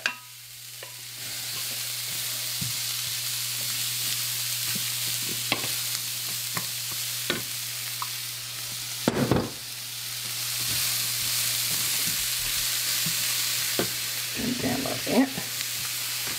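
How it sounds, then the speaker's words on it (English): Onions and celery cooking in butter, a steady soft sizzle with occasional stirring clatter and utensil scrapes, close and continuous throughout. "I'm going to use butter to do my onions and celery"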